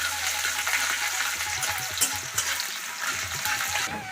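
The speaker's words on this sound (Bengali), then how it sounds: "পেঁয়াজটা হালকা একটু ভেজে নেব," Chopped onion with cumin and bay leaf frying in hot mustard oil, a steady close crackling sizzle that runs the whole time with small bubbling pops and no talking.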